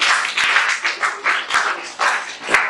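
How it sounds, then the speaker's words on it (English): A group of students at a science club quiz claps for a participant, giving several bursts of close, moderately loud applause that rise and fade in uneven pulses. "Please clap for him."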